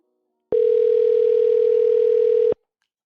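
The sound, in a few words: telephone dial tone while calling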